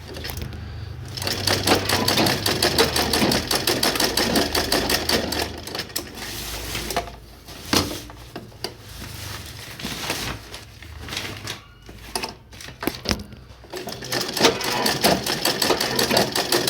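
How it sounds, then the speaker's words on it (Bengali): A sewing machine stitching cross-pattern seams on the handles of a bag made from a rice sack, a steady rapid whirring clatter with brief pauses and bursts, close and loud. "এরকম ক্রস চিহ্ন সেলাই দিয়ে দেবে, ক্রস দিয়ে দেবে যাতে হ্যান্ডেলগুলো সব ঠিকঠাক থাকে।"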